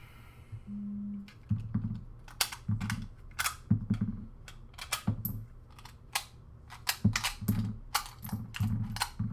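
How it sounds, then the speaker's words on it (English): M1 Carbine being unloaded indoors: a run of sharp metallic clicks and clacks from the magazine and action, spaced irregularly, close and fairly quiet. "So I'm going to take that out. Unload it real quick."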